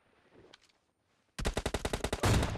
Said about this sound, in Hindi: अब अपने हाथ में AWM है, पहला शॉट में मिस कर देता हूँ